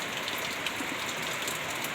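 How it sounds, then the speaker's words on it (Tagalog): Steady heavy rain pours down in a dense, even hiss, close and continuous with no voices. "Pag malakas ang ulan."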